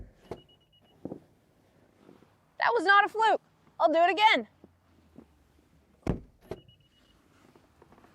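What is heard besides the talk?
Acura TLX Type S trunk closing and popping back open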